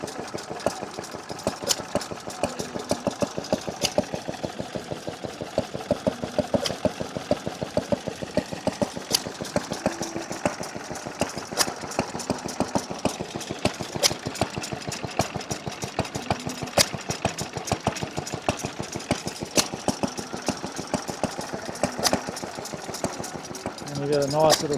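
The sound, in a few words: vertical Callan Lewis 2.5 horsepower vintage engine running, made in Melbourne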